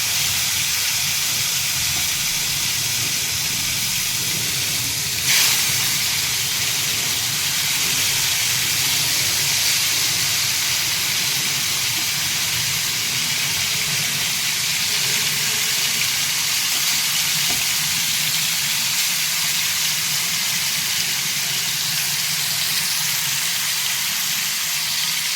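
Fish frying in hot oil in a home kitchen, a steady broadband sizzle and hiss that runs unbroken for the whole stretch with no talk over it.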